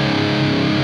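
An EVH 5150 Iconic EL34 80-watt guitar amp with its boost engaged roars as a sustained, loud, heavily distorted chord that rings steadily through the whole brief moment, with no talk.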